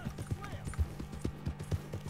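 Horse hooves clip-clopping at a steady walking rhythm in the Red Dead Redemption video game, distinct thuds about every quarter second, with a voice talking faintly over them.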